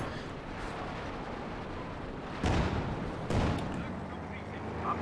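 Gunfire and artillery from a war video game crackle continuously in the background, with two heavier blasts standing out, while a commentator talks over the noise.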